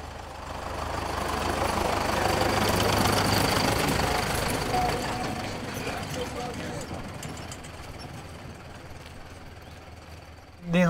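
A tractor engine idles with a steady, low, rumbling drone that holds for the full stretch, with voices talking over it.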